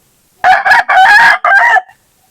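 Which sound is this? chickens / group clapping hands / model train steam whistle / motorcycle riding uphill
chickens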